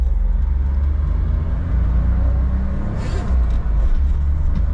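A Honda Street kei van drives along with its air conditioning on, giving a loud, steady low engine and road rumble close by, with no talk.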